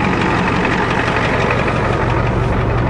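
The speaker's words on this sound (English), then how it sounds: "Pretty quiet considering it's got no exhaust system and muffler anymore." A Ford diesel truck engine with no exhaust system or muffler idles steadily, giving a loud, constant low rumble with a rough, knocking texture throughout and no talk.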